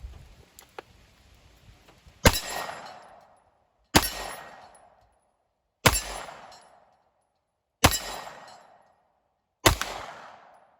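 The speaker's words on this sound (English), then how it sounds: "let's throw a couple rounds through it, shall we?" Five sharp, loud gunshots from a Springfield Echelon pistol ring out at an outdoor range, spaced roughly two seconds apart, each with a short echoing decay, after a few faint clicks.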